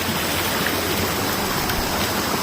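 River water runs steadily past, a continuous broadband rush like a stream or small cascade, close by and even in level with no voices.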